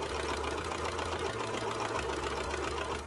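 A sewing machine stitches binding onto a hoodie edge, a steady low mechanical whir running continuously and faintly throughout without any talk.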